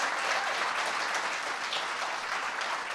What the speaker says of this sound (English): So another round of applause for the Attorney General